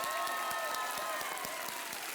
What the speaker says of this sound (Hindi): जोरदार तालियां आलिया भट्ट के लिए।